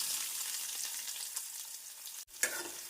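Steady sizzling of chopped onions frying in hot oil with fennel seeds, a continuous bright crackle with a brief stir and clatter near the end.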